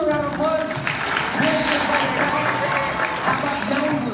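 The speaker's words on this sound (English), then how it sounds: "Give them a round of applause." An audience claps at a basketball awards ceremony featuring an illusionist, a lively burst of applause lasting a few seconds under a singing or speaking voice and music.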